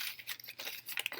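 A paper math lesson worksheet is torn apart, giving a brief run of faint rasping, crinkly rips in quick succession over a quiet background.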